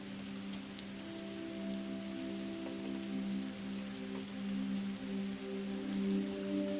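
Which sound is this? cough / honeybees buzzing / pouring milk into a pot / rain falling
rain falling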